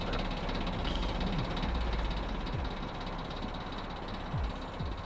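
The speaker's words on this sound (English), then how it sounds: "Is that a motorcycle? That's a motorcycle." In the video game Infra, a motorcycle engine gives a loud, continuous rumbling idle with knocking pulses and a few short rising whirs, heard alone without talk.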